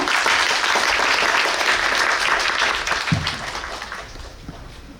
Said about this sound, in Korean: 더 큰 박수로 환영해 주시기 바랍니다.